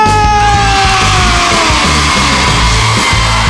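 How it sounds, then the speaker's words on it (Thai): Loud, sustained high-pitched shrieking from a crowd of schoolchildren over a booming low rhythmic beat, filling the whole stretch. "โอ้โหน้องๆกรี๊ดกันดังเหลือเกินครับ"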